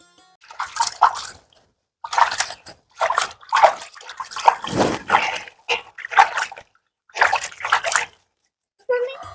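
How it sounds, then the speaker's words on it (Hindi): Elephant foot yam (suran) covered in soil being washed by hand in water, with repeated bursts of splashing and sloshing in short strokes separated by brief pauses, close and fairly loud. "सूरन को पानी से साफ कर लेते हैं"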